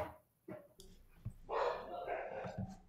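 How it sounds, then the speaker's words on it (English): Dogs bark in the background: a few short barks and yips at uneven intervals, then a louder bark that trails into a whine, mixed with background noise and a person talking. "Had dogs barking in the background."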